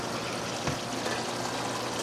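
Water poured off freshly cooked clams, a steady, fairly loud splashing pour running without pause from start to finish.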